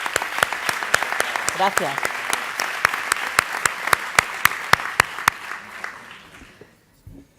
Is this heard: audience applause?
yes